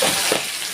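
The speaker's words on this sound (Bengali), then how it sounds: "আমার তেল গরম হয়ে গেছে, আমি আলুটা দিয়ে দিচ্ছি।" Potatoes dropped into hot oil, a brief, loud burst of bubbling sizzle with a short splash-like flare midway, close to the microphone and without voices.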